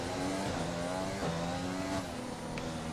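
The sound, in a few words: F1 car cutting a corner in F1 video game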